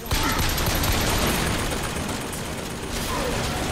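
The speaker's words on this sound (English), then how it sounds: "Shoot the handyman in the heart for extra damage with my pistol" Pistol fire in the shooter game Bioshock Infinite aimed at a Handyman enemy, dense loud gunfire and combat noise throughout, continuous and close.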